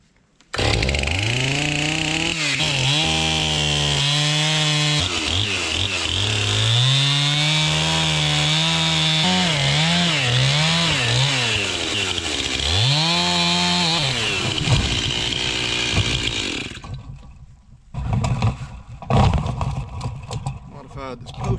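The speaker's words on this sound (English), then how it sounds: "We'll get the chainsaw over here." Chainsaw running steadily out in a cattle field, its engine loud and close, with pitch swinging up and down as the throttle changes, then dropping away near the end into rustling and handling noises.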